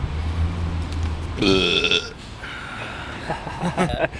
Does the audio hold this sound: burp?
yes